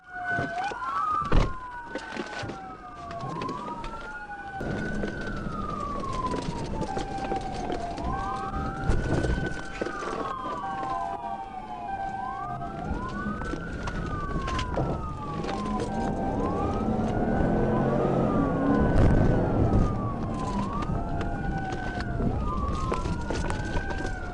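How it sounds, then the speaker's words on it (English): Wailing police sirens rise and fall repeatedly, several overlapping, over steady traffic noise that grows louder toward the end. "with sirens echoing behind him"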